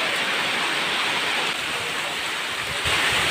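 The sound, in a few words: heavy rain falling outside house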